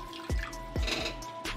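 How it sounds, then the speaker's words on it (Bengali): Spiced water splashes into a pan of parshe fish curry cooked with yogurt and fenugreek, three distinct pouring gushes over a steady low hiss of cooking, close by, with no talking. "এবার আমি এর মধ্যে জল দেব।"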